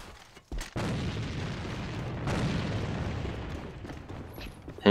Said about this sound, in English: Got lit up by a nade.